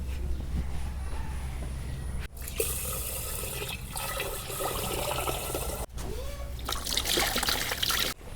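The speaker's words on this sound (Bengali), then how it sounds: "চাল এখন আমি ধুয়ে নেব।" Rice being washed in a cooking pot with water for Bangladeshi khichuri, a steady close trickling and sloshing of liquid with brief pauses, no voices.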